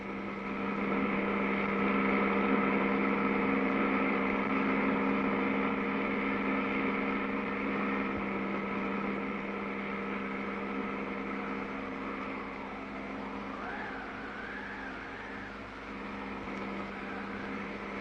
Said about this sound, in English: At full throttle, the lightened Piper sets off on the downhill run